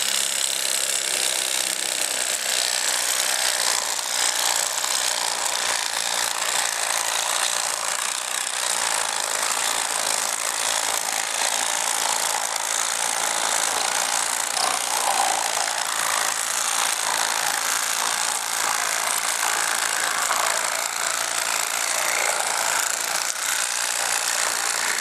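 An electric fillet knife cuts through a striped bass, its motor buzzing loud and steady for the whole stretch, with a rough vibrating edge as the blade works along the backbone.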